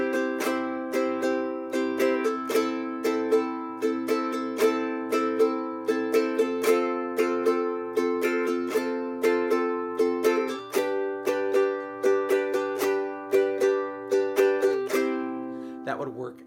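Ukulele strummed in an island strum pattern with raschiato flourishes, all four strings struck by the fingers in quick rolls, played as a close, steady, bright run of strums with no voice.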